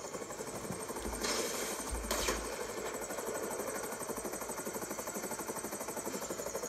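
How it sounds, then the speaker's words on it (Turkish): A helicopter taking off in the video game GTA 5, a steady whirring engine drone with rapid rotor pulsing and a couple of brief louder bursts, continuous and moderately near. "şu anda kalkıyorum helikopterle."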